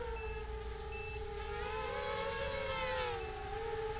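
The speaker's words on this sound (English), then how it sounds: "So I can hear that voltage alarm going off." A Holybro Shuriken 250 racing quadcopter's low-voltage alarm chirps a few high electronic beeps over the loud, steady whine of spinning drone motors that rise and fall in pitch.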